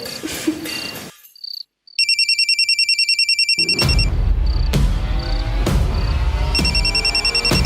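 After a brief quiet gap, a mobile phone ringtone sounds in a loud, close, repeating electronic melody, accompanied by regular dull thumps at roughly one-second intervals.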